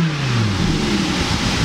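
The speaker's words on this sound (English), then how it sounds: "Can you start it up and rev the engine?" A 2017 Lamborghini V10 engine revs loudly and close, a steady rising roar that fills the short moment without talk.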